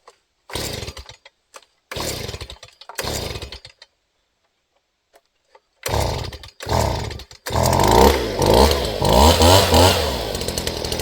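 A Stihl BG 50 handheld leaf blower gets several sharp pull-start attempts, each a short two-stroke burst with pauses between, then catches and runs in a loud, steady, revving roar close by.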